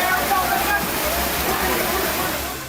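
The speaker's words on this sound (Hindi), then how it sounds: "पानी की रफ्तार इतनी तेज है कि" Fast floodwater rushing through flooded streets after heavy monsoon rain in Maharashtra, a steady loud broadband roar of churning, sloshing water close by with no pauses.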